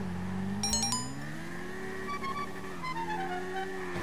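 A moped engine revs in GTA 5, a buzzing motor whose pitch rises and dips in waves, preceded by a short burst of chiming game tones near the start.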